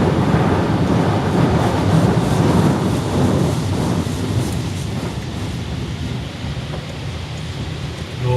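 Automatic car wash jets spraying water over a car, heard from inside as a loud, dense, continuous hiss and drumming that eases slightly toward the end.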